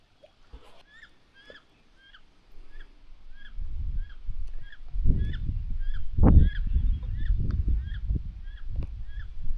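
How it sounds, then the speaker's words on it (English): Ducks honking repeatedly in a quick series, somewhat distant, over a rising low rumble of water and movement nearby from a kayak on the Missouri River. "I'm scaring some ducks as I go along the corner"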